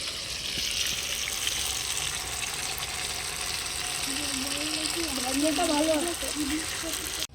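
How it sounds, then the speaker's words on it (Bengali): Chicken pieces frying in hot oil over a low flame for masala tandoori chicken, giving a steady hissing sizzle throughout, while a voice talks over it. "গরম তেলের মধ্যে আমি চিকেনটা দিয়ে"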